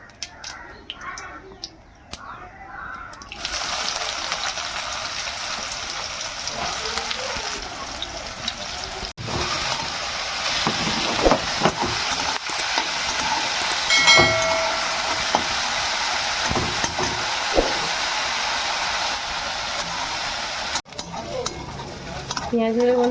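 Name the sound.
chopped onions frying in hot refined oil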